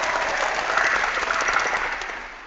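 Audience applause at a business presentation, a dense burst of clapping that fills the moment and slowly tapers off at the end.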